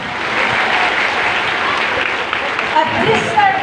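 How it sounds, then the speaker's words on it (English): Loud, sustained applause from the audience at an elementary school closing ceremony, honoring the parents, a dense wash of clapping with crowd voices mixed in. "can we give a big round of applause to our parents?"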